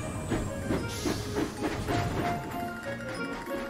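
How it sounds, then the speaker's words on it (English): Cartoon steam locomotive puffing along a railway toward the steamworks, a steady rhythmic chuffing with hissing steam and rolling rail clatter, loud and continuous. "Edward puffed into the steamworks. Charlie chuffed close behind."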